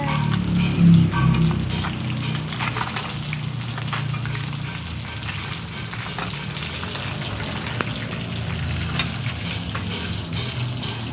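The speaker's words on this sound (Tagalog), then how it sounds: "Luto na yung ating mga piniritong isda." Fish fries in a pan over a mini portable butane burner, giving a steady, close, even sizzle with a low background hum and a brief louder bump near the start, with no talking.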